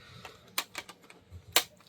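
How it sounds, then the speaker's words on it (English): A computer keyboard is shifted across a desk, giving a few sharp plastic clacks and knocks at irregular intervals, close and moderately loud, with soft handling noise between them. "Moving the keyboard."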